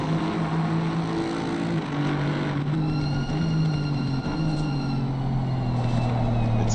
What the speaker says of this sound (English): I love the sound of the Mercedes.